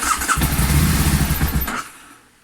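A freshly cleaned motorcycle engine, back together with its airbox, tank and fresh petrol, kicks into a loud, rough running burst up close before cutting out after about two seconds.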